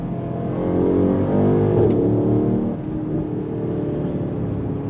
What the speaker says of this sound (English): drop a gear, drop another gear, hear that pop, and we drop it one more gear.